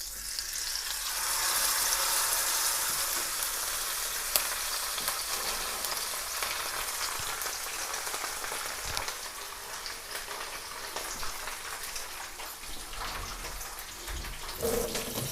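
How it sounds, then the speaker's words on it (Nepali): Sea bream fish, masala-coated Nepali style, frying in hot oil with a steady, dense sizzle that holds loud and even throughout, no voices present. "म अर्को माछा तार्दैछु।"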